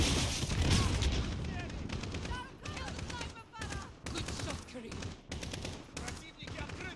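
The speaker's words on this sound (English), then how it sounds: "Good shot, Kareem." Rapid automatic gunfire from the Call of Duty Modern Warfare video game rattles in steady repeated bursts, with faint game voices beneath.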